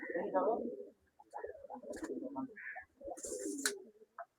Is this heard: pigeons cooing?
yes